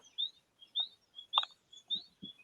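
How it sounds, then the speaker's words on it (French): Small birds chirp outdoors in Martinique, a series of short, high, clear tweets repeating every half second or so, fairly near, with soft thuds of kitchen activity between calls. "J'aime qu'on entende les oiseaux autour de toi pendant que tu nous prépares ça"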